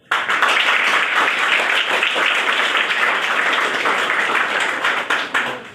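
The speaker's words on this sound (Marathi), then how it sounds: "तुम्ही सर्वांनी टाळ्या वाजवून त्यांचं अभिनंदन करावं कौतुक करावं" An audience applauds at a community event, producing dense, sustained clapping that starts abruptly, stays loud and fades slightly at the end.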